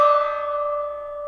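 A single gong hit rings out as a sound effect, a clear, bright, sustained metallic tone that fades slowly over a bit more than a second, heard alone with no talk.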